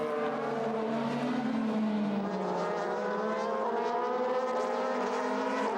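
DTM race cars, an Audi chased closely by three Mercedes-Benz, racing at Barcelona in 2007, with loud, sustained engine howls and rising and falling pitch as the cars run nose to tail past the trackside.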